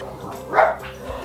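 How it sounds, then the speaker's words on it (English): A single short dog bark near the middle of a brief indoor moment, moderately close, with faint background noise around it. "And that's my dog."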